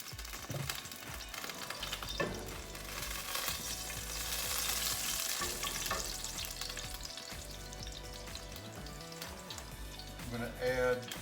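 An extra tablespoon of oil sizzles and spits in a pan on turned-down heat while a chicken with sour cream and apples sauce gets started, steady close frying with some stirring clatter and a louder crackle near the end.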